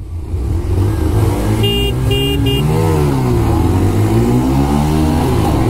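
A Bajaj Pulsar 125 motorcycle accelerates close by, its engine tone rising and falling steadily through the run at high loudness, with no talking.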